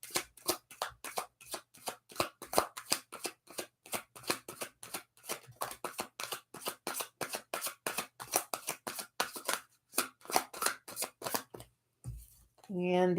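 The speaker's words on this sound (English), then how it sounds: "we're just going to shuffle a little bit now" Tarot cards are shuffled in a steady run of quick riffling flicks, evenly spaced and fairly soft, up close, ending with a brief pause and a few faint sounds.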